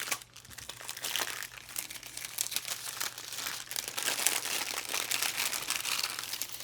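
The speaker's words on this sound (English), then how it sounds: "Sorry about the crinkling. Everything is cellophane." Cellophane wrapping on a stationery and stamp haul crinkles steadily and close up for several seconds, a continuous dense rustle with no talking.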